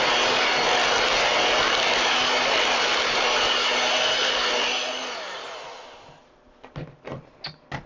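An electric hand mixer whirs steadily and loudly through batter for about five seconds, then cuts off, followed by a few bursts of speech.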